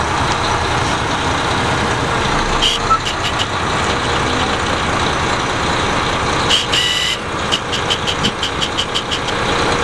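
A Renault T460 Euro 5 truck with a retarder idles steadily right after starting, a loud, close diesel rumble with a few short clicks and hisses over the top.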